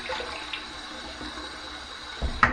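Water is dumped from an Omega shaving bowl, a short splashing pour that swells into a louder gush near the end against a quiet room.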